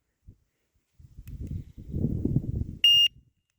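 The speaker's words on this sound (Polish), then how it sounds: "po usłyszeniu sygnału już alarm został wyłączony" A bicycle alarm gives a single short, sharp electronic beep as it is switched off, following soft handling and rustling noises.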